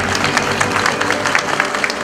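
Wedding guests in Detva give a hearty round of applause, many hands clapping in a dense, even patter for a couple of seconds, close and fairly loud.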